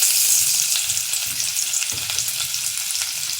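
Chopped ginger fries in hot oil on low heat while rava upma is being prepared, giving a dense, steady sizzle with crackling spatters and light stirring, close and alone.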